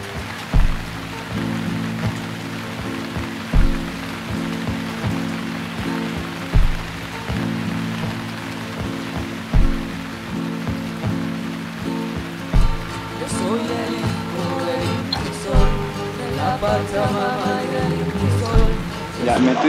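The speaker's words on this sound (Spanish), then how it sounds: "acaba de empezar la lluvia" Rain beginning to fall outdoors, a steady dense patter spread across the whole stretch, with faint periodic knocks and some background activity, no clear voices heard.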